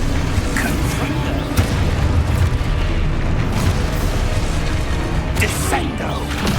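The Confringo blasting spell in Hogwarts Legacy bursts into a loud, sustained rumbling explosion with a dense roar and scattered crackles, with a voice in the game speaking over it.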